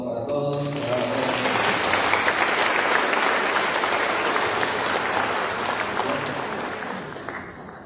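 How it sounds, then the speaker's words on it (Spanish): A church congregation bursts into sustained, enthusiastic clapping that swells and holds steady before gradually tapering off. "Aplauso para todos."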